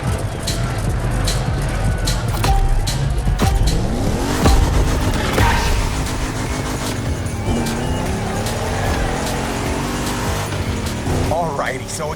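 A car driven in the racing video game The Crew Motorfest, its engine droning steadily with rising and falling revs and occasional tire squeal, loud and continuous, with speech present over it.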